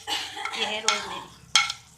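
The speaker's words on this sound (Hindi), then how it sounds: "और ये अब हम मिक्स कर रहे हैं इसमें" A spoon stirs spices, Kashmiri chillies, chicken tikka masala, rosemary and oregano, into a masala for a chicken pizza, with soft scraping swishes and a couple of sharp utensil clinks against the bowl, close by.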